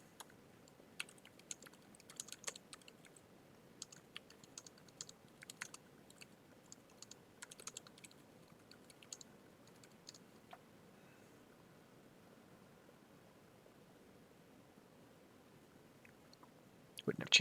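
Rapid, uneven keystrokes on a computer keyboard during a KeyForge card game match, clicking in scattered bursts at moderate distance over a quiet background, then tapering off into a near-silent stretch before a brief louder burst at the end.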